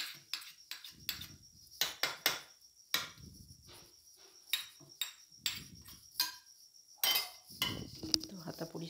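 A small metal spoon scrapes dried residue off a kitchen ladle, giving a close run of irregular metallic scrapes, clinks and taps with brief quiet gaps between them.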